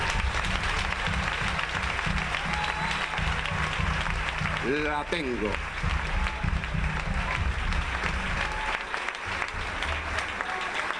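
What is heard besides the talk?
congregation applauding in church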